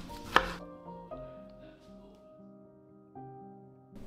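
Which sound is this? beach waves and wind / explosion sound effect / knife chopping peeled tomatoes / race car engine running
knife chopping peeled tomatoes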